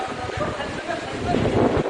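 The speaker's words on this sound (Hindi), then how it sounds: "आप सुन पा रहे हैं जो तेज हवा बह रही है," Strong winds from Cyclone Nisarga buffet the microphone in loud, rumbling gusts that rise and fall over the whole stretch, with a voice faintly mixed in.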